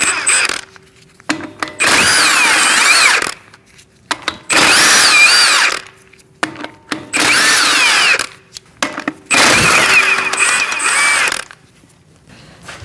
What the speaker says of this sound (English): Now we're going to remove our lug nuts with the same size.